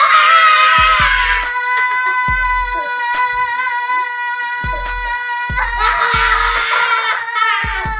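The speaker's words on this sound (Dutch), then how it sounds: "dan schreeuwen we allemaal zo lang als dat we kunnen" A group of people scream together as long as they can, a loud sustained chorus of high voices that wavers and swells, broken by low thumping bumps.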